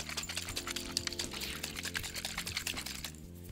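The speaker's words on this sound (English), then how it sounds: "So we'll give that a good shake." A spray bottle of Perfect Pearls pigment mixed with water is shaken vigorously, giving rapid, close rattling and sloshing pulses in a quick, uneven rhythm that fades at the end.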